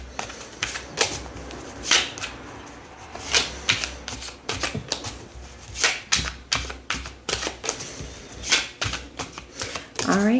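A deck of tarot cards is shuffled in quick, repeated riffles and snaps, close and crisp over about ten seconds, with a voice talking underneath.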